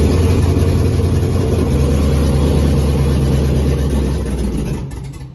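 A truck fitted with a 4.8 LS V8 engine runs loud and steady at close range, a deep continuous rumble with slight revs, trailing off toward the end; no talking.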